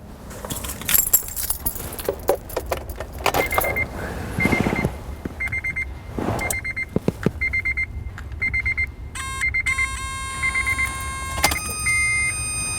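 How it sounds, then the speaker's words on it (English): A car key slides into the ignition and turns, bringing a jangle of keys, clicks, then a chime and steady warning tones from the dashboard, close by with no talk. "Now I'm going to insert the key and turn it on"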